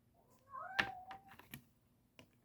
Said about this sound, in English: My cats make noises, but not... That was a new one.